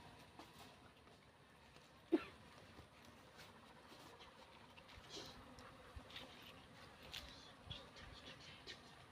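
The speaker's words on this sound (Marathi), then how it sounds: "इथं माश्या चावायला लागल्यात" Faint buzzing of bees hovers close by at a honeycomb being taken from a tree hollow, amid quiet outdoor background, with a soft tap or two.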